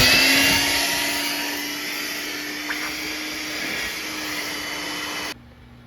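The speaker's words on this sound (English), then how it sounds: "Vacuum." A vacuum cleaner running steadily while cleaning the carpet of a 2010 Chrysler Town & Country minivan, a close, continuous whine with a faint knock partway through before it cuts off near the end.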